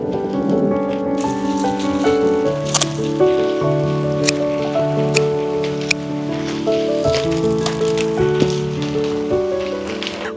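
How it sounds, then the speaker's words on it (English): Heavy rain pours steadily outdoors in the countryside, a dense continuous patter of drops on surfaces mixed under soft background music. "it is dumping rain again"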